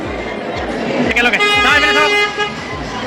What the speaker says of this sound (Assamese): গাড়ী আহি হৰ্ণ মাৰি দিলে